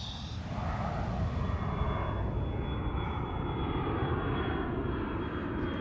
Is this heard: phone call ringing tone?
no